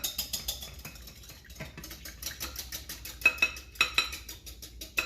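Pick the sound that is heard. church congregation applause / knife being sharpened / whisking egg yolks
whisking egg yolks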